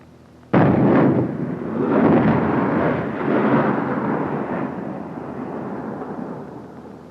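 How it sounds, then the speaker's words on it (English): Vietnam War illumination and high explosive artillery rounds: one sudden loud boom followed by a long, heavy rolling rumble that continues for several seconds and slowly fades, with no voices. "Now you can hear the illumination being kept up there."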